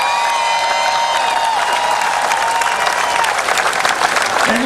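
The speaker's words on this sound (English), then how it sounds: "Let's give them a round of applause." A big street crowd at the Pittsburgh Penguins' Stanley Cup victory parade gives a dense, sustained round of applause with scattered cheers, loud and continuous throughout.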